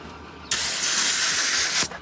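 A bike tyre being filled with air gives a single loud, steady hiss that starts suddenly, holds for just over a second and stops sharply, with no voices over it.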